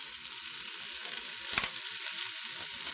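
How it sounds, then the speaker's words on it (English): Onions and garlic fry in a hot non-stick pot for minestrone soup, a steady bright sizzle with one brief scraping stir of a heat-resistant spatula partway through. "I'm going to start adding the onion because otherwise all the garlic is going to burn"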